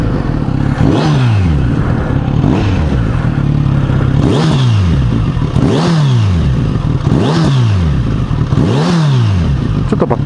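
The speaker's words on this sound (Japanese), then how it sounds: "ちょっと吹かします。" A Kawasaki Z900RS motorcycle with a K-Factory steel full exhaust revving in five evenly spaced throttle blips, each swelling and falling back to a loud, close idle.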